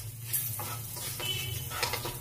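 Sambar powder, chili powder and turmeric heat in a pan, with a faint, soft sizzle and light stirring scrapes that run steadily throughout, with no talking.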